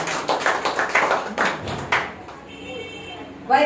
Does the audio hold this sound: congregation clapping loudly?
yes